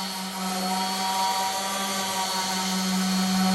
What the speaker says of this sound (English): now Chris is sanding.